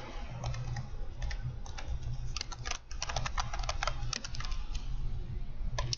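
Steady keyboard clicking from someone typing code on a computer, quick irregular bursts of keystrokes running through the whole stretch over a low background hum, fairly close and moderately loud, with no one talking.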